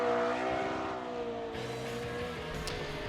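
Formula Drift car at a 2019 Atlanta qualifying event, its exhaust note droning with a steady, hammering engine tone that shifts slightly in pitch, heard at moderate distance amid track ambience.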